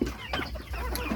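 A backyard chicken on a small farm that also keeps turkeys, giving a few short close clucks in a brief burst with low farmyard noise underneath.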